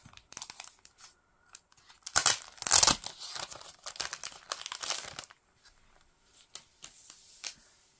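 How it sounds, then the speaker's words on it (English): Plastic wrap is peeled and crinkled off a K-pop album, with bursts of close crackling and tearing, loudest in the middle stretch and then fading into lighter, scattered rustles. "And it is in this plastic wrap."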